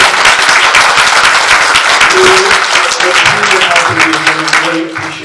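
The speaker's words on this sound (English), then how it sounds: "Big round of applause for him." A luncheon audience gives a loud round of applause honoring a longtime volunteer, with thick steady clapping close and full before it thins out at the end as voices emerge.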